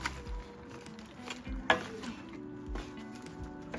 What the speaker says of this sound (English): add the basil and green onions to the pot and mix it in.